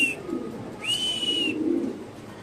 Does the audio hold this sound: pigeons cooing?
yes